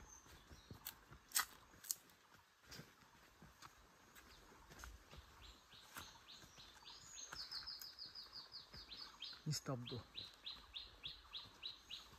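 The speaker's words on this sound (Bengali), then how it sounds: "পাখি পোকামাকড়ের ডাক ছাড়ার কোনো শব্দ নেই।" In a quiet hill forest in Bandarban, a bird repeats a rapid series of thin, high chirps that grows clearer later on, over faint rustling and footsteps, with one brief spoken word.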